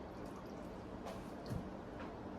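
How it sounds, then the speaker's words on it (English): Water is poured into a bowl of brownie mix, a faint, soft trickle with a brief splash partway through in a quiet kitchen. "I'll put my water first."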